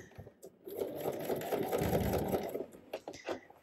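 A sewing machine runs steadily, its presser foot guided along a seam line as a garment front is stitched together, making a continuous close mechanical whir that holds for about two seconds before it slows and stops with a few light clicks.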